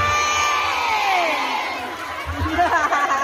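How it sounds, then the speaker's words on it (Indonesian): A lively crowd at a Maulid Nabi religious gathering in Bekasi claps and cheers, with shouts and whoops rising over a steady roar. The noise dips briefly midway, then swells again with louder clapping and excited voices. "Tepuk tangan buat Perhamus Bekasi luar biasa"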